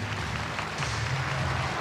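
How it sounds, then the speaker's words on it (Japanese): Brief, dense crowd noise at a 1990 All Japan Women's wrestling event, cheering and clapping as Bull Nakano heads down the aisle to the steel cage, a constant wash of sound with no break. "花道に行くときは大きく高く湧き上がる歓声。"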